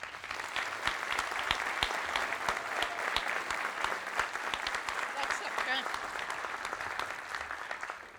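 Steady, fairly distant applause from a seated crowd at a sports hall of fame induction ceremony honoring an award winner, a continuous even patter of many hands lasting several seconds.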